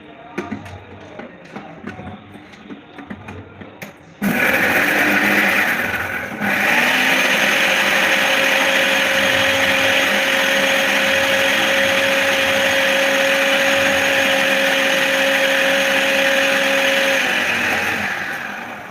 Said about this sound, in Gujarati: હવે આપણે પીસી લઈશું.